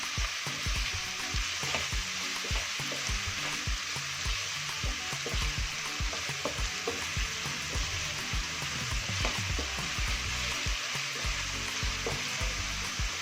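Onion rice with salt sizzling in hot oil in a pan, a steady crackle with occasional stirring scrapes and no voices.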